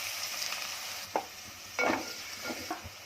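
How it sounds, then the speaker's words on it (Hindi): Sliced onion drops into hot oil in a pan and fries, with a soft, faint sizzle and a few brief scrapes and stirs spread across the moment. "तेल गरम हो गया, अब इसमें डालूंगी अपना प्याज"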